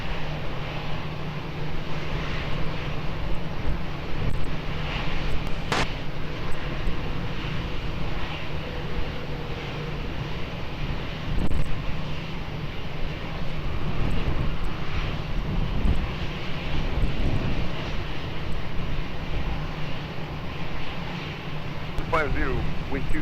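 An airplane on approach to land at Lisbon Airport makes a steady engine drone throughout, with radio voices talking over it.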